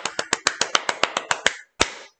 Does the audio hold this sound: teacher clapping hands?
yes